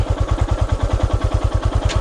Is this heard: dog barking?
no